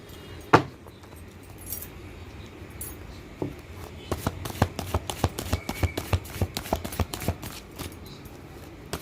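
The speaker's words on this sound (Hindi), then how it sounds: "सबसे पहले तो कार्ड मिक्स कर लेती हूँ।" Tarot cards being mixed by hand, with a sharp tap early on, then a dense run of quick crisp card slaps and riffles, close and moderately loud.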